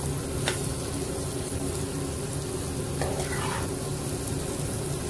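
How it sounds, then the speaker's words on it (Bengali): Chopped bottle gourd and potatoes fry in a pan with a constant, dense sizzle, broken by a couple of brief scraping stirs of a spoon against the pan. "আলুর সঙ্গে আমি লাউগুলো ফ্রাই করে নিচ্ছি"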